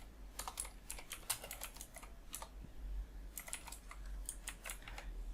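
Quick bursts of keystrokes on a computer keyboard while Node.js server code is written, clicking in uneven clusters with short pauses, close and fairly quiet with no talking.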